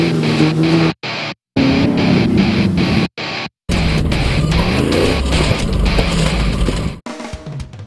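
Off-road race buggies roaring past in a large-field race northeast of Perth, loud engines revving and droning up close, cut by short gaps, with pitch sweeping as vehicles pass.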